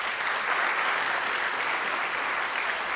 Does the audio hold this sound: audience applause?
yes